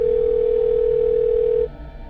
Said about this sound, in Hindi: फिर उस फोन से करण के दूसरे फोन पर फोन किया गया